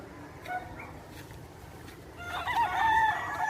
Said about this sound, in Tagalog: Ang daming ano dito oh. Mga manukan.